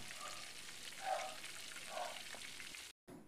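Stuffed milkfish wrapped in banana leaf fries in hot oil, a steady close crackle and sizzle with a few louder pops, briefly cutting out near the end.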